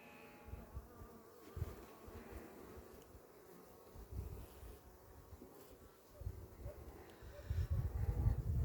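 Honeybees buzz steadily around an opened beehive during a hive inspection outdoors, a close, continuous insect hum that swells louder toward the end, with light wind noise at the microphone.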